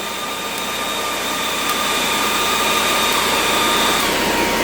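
Onan 7.5 JB generator running under a load test after an oil change, a loud steady whining drone with high tonal hum, rising slightly in level and close by.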